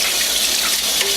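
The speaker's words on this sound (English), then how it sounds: "With cold water and this cleaning brush." Cold water runs steadily from a tap into a sink while juicer parts are rinsed with a cleaning brush, a constant close splashing hiss with no pauses.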